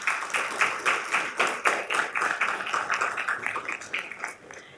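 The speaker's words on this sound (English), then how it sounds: "Let's give them all a round of applause one more time" A school board meeting audience applauds students, a lively burst of hand clapping in rapid rhythmic pulses that stays strong for several seconds before tapering off at the end.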